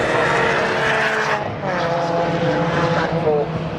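A racing truck at a British Truck Racing circuit, its engine roaring loudly and steadily as it passes, with the pitch shifting, under a commentator's voice.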